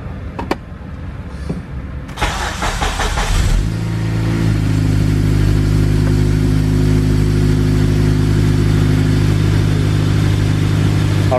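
A Honda CRX engine runs on a high fast idle after a brief start, settling into a steady, loud, droning hum that holds evenly to the end.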